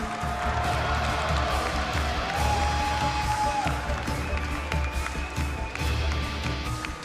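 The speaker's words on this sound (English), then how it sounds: "give a cheer for Maru Prime!" Large esports arena crowd at BlizzCon cheering for StarCraft player Maru, a steady broad roar of voices and clapping sustained throughout, with no clear individual speech.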